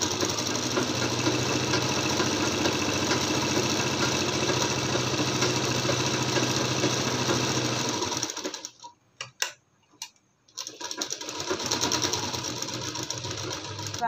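A sewing machine stitches the side seam of a palazzo with a steady, close mechanical whir for about eight seconds, stops briefly with a few stray clicks, then resumes running.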